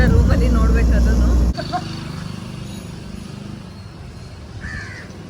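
Crows caw loudly near a hotel entrance in Pondicherry in a burst of harsh calls over the first second and a half. Quieter background noise and voices follow.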